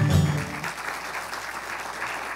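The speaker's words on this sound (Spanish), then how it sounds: "aplauso Señor" Congregation applauding during a Spanish-language church sermon, a brief voice at the start giving way to a steady, even patter of clapping that continues to the end.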